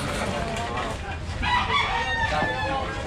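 A chicken clucks and crows near a city jail sidewalk amid a commotion, bird calls rising loud over a busy background of voices and street noise.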